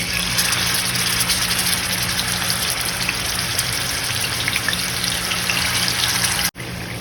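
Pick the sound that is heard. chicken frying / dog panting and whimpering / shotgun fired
chicken frying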